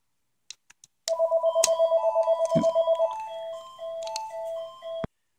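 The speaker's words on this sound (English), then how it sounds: "The phone rang." A telephone rings in a workshop with a fast pulsing electronic trill, followed by a short melodic ringtone run, fairly loud and close, with a few clicks before it and a sharp cutoff at the end.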